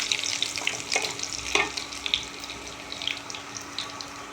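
Chopped garlic fries in hot oil left over from frying potatoes, with garam masala and bay leaf. A bright, steady sizzle is heard up close, with a few light stirring clinks and no talk.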